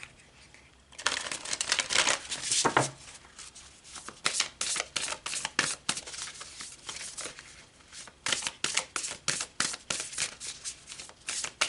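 Tarot cards shuffled close by in a run of crisp, papery riffles and flutters that repeat steadily for several seconds, with no talking.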